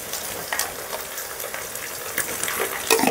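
Gongura greens fry in a pan, giving a steady crackling sizzle with scattered pops and brief stirring scrapes.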